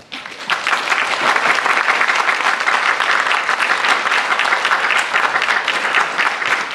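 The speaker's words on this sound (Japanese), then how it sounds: "皆様、もう一度高野さんに大きな拍手をお願いいたします" A lecture audience in Japan applauds loudly and steadily, many hands clapping in a dense, sustained wash that swells up quickly and holds to the end.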